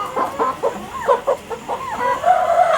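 Chickens cluck close by in quick, uneven bursts, several birds overlapping with short rising calls and no talking.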